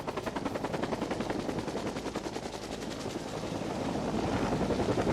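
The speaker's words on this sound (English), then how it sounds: "That's the helicopter that we came in." A helicopter's rotor thumps in a rapid, steady beat, growing gradually louder as it approaches, with no voices.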